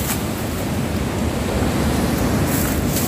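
Saitwade waterfall, a perennial Konkan waterfall, roars as a steady broadband rush of falling water, loud and continuous with no voices.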